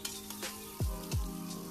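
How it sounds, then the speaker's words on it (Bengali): Onion and whole garam masala spices frying in hot oil in a kadai, a steady close sizzle with a couple of low thumps and scrapes from stirring, no voices. "তেলের মধ্যে আমি পেঁয়াজ আর কয়েকটি গরম মশলা দিয়ে দিলাম।"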